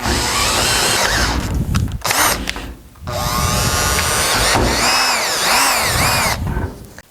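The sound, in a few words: power drill drilling holes at lower speed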